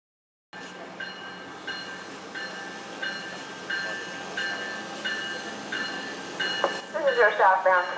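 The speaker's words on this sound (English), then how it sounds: "Please stand back from the edge of the platform as the train arrives" Commuter train pulling into a southbound station platform bound for Miami Airport, a steady rumble with repeated tonal chimes or announcement tones, then a louder rising screech and squeal of brakes near the end.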